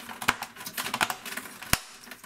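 Plastic parts of an iiyama ProLite GE2488HS-B1 gaming monitor stand clicking into place, a run of light rattling clicks with a few sharp snaps, close up and fairly quiet.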